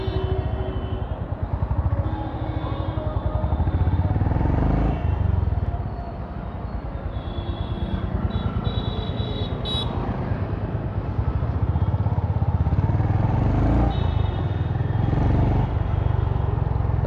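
A Honda CB350RS motorcycle rides along a road, its engine a loud, steady low rumble mixed with wind buffeting, dipping briefly in the middle before rising again.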